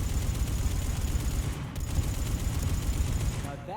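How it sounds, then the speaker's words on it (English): Dense, continuous burst of weapon fire from a Chakram launcher shooting explosive spikes in Mass Effect 3, a rapid rattling fusillade close and loud, briefly breaking near the middle before resuming. "The Chakram launcher. Shoot explosive spikes at people."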